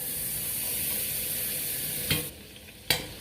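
Butter melting in a pan gives a steady, close sizzle and hiss, broken near the end by two brief louder clatters.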